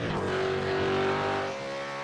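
A V8 Supercar engine in a racing simulator at Bathurst revs hard with a high, steady whine through a corner turn-in, holding for a moment and then easing off slightly.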